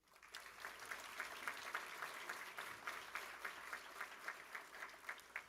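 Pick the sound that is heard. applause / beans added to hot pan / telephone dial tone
applause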